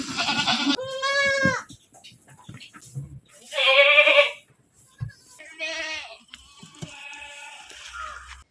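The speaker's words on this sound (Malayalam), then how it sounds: "ഇന്നത്തെ വീഡിയോ ആട് വളർത്തലുമായി ബന്ധപ്പെട്ടതാണ്" Goats on a goat farm bleat loudly and close by in repeated wavering calls, alternating with short quieter bursts and pauses.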